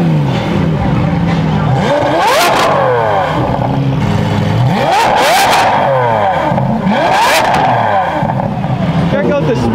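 A loud car with recently installed headers, part of a supercar rally with a Lamborghini Aventador SV, revs and accelerates hard in repeated rising bursts, close and dominating throughout.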